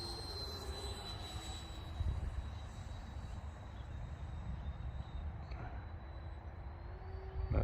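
A model F-86 Sabre jet aircraft passes on a landing approach, a faint steady whine with a high tone under soft outdoor wind noise, swelling slightly toward the end.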